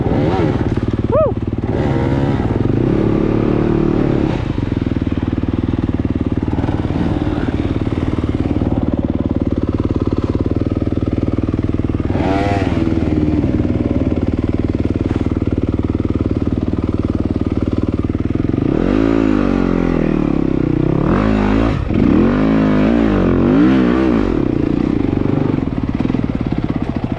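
Dirt bike engines riding through mountain trails, a loud continuous motorcycle drone with several revving swells and pitch sweeps, close by, with brief voices and shouts mixed in.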